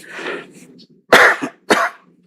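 A person in a courtroom argument coughs in a few harsh bursts, a rougher throat-clearing cough first, then two sharp, loud coughs close to the microphone, with short silences between.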